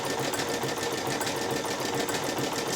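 A sewing machine stitching the seams of a child's dress, with a continuous fast even needle whir heard up close at steady volume and no talking.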